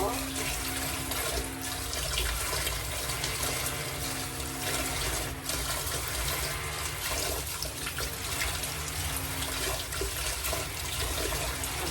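Kangkong (water spinach) being washed under a running kitchen tap, a steady continuous splash and rush of water close by with faint rustling of the leaves, no talk.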